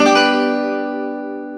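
A guitar sounds a C-shape chord in a single strum from the fifth string down, one bright attack that rings on and slowly fades, close and alone.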